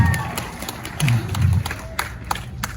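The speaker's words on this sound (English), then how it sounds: "Round of applause to them" Audience applause at the Miss Heiva San Diego 2023 pageant, with clapping and a few cheers rising in bursts from a nearby crowd for about three seconds.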